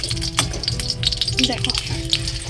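Brinjal slices frying in hot oil for a home birthday meal, a steady crackling sizzle running underneath a woman's nearby speech.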